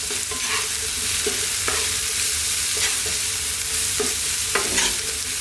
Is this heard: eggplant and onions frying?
yes